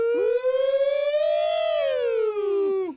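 A single siren sound effect wails for about three seconds, rising smoothly then holding and falling away, clean and alone with no voices over it.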